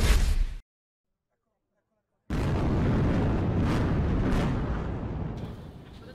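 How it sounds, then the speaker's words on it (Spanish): A brief burst, then silence, followed by a long, heavy rumbling roar of controlled demolition blasts bringing down the Morandi bridge in Genoa, slowly fading, with faint voices under it. "Seis segundos de explosiones controladas han bastado para destruir por completo el puente Morandi de Génova"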